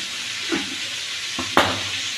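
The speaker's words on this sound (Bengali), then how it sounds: "আমি হালকা হালকা করে সুন্দর করে ভাজছি" Soft sizzling of vegetables lightly frying in a pan for mixed fried rice, with two brief stirring scrapes, close and steady, no voices.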